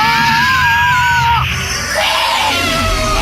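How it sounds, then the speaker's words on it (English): Porygon's cry from the Pokemon anime, a shrill, banshee-like wailing scream with wavering, sliding pitch, loud and sustained for over three seconds with a dip in the middle. "I finally learned Porygon's cry in the show is utterly hilarious"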